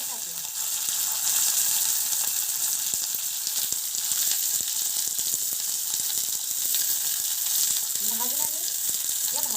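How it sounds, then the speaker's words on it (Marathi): Finely chopped guar beans frying in a spoonful of oil over a high flame give off a dense, steady sizzle that holds for the whole stretch, with a faint voice surfacing briefly near the end. "1 चमच तेल घालणार आहे थोडंसं, कारण की गवार शेंगा मला भाजून घ्यायच्या आहे"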